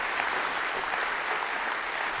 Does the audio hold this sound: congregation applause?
yes